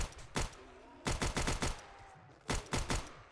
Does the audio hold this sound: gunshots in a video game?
yes